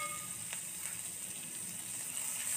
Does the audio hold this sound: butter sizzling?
yes